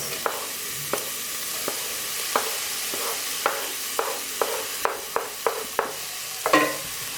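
Carrots and courgette stir-fry in a pan at home, a steady sizzle broken by a dozen light, irregular scrapes and taps of a spoon stirring, with no talking.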